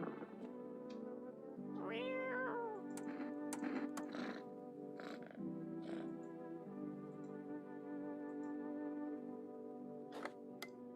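A cat meows repeatedly in the video game No I'm Not A Human, with rising, drawn-out calls over a steady droning tone, loud and close, with no talk.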